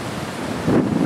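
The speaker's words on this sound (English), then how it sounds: "The wind is coming from the east." Strong easterly hurricane wind from Hurricane Sandy buffeting a microphone outdoors near bending trees, a loud rushing roar that surges near the end.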